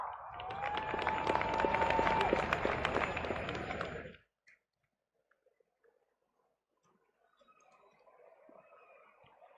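An audience at a trophy presentation for the 35th National Games applauds in a steady, dense wash of clapping for about four seconds, then stops abruptly, leaving near silence and faint low crowd murmur.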